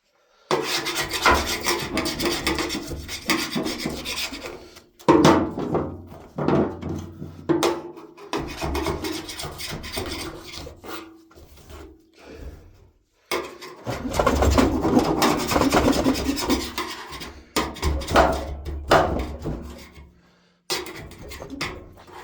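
Rust is scrubbed off a car part with a steady, harsh rasping rub in long strokes broken by brief pauses, close and fairly loud, no speech.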